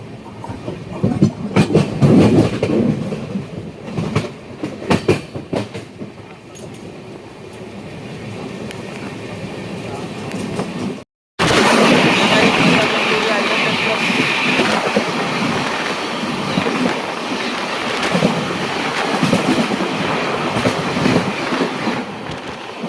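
The Ernakulam–Velankanni Express rolls along slowly with continuous rumbling and rhythmic wheel clatter from on board, a brief dropout midway, then steady rail noise resuming, with a voice talking over it at times.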